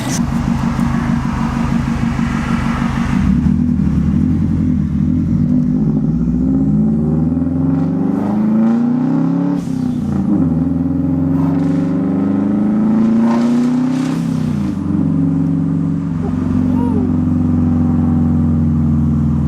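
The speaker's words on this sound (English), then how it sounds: "You got to see a pull and some noise the car made." A Subaru WRX with a newly installed blow off valve pulls hard: the engine revs climb loudly through the gears, with breaks and whooshes between shifts as the car accelerates on the road, close and continuous.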